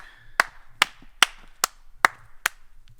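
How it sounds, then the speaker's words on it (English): Six sharp, evenly spaced claps from a small group at a lakeside campsite, loud and close, with brief pauses between them and no talking. "Round of applause."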